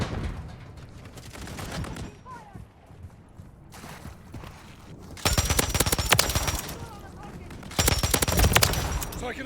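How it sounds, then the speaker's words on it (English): Heavy bursts of automatic gunfire and scattered shots in a Call of Duty Modern Warfare 3 Domination match on the Rust map, loud and dense in two long volleys near the end, with in-game radio voice callouts between. "Taking effective fire!"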